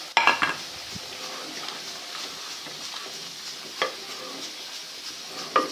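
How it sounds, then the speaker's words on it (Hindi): Dal with spices being stirred and fried in a pot for a dhaba-style dish: a steady soft sizzle under scraping spoon strokes, with a few sharp knocks against the pot. "इसको भून लेंगे हम"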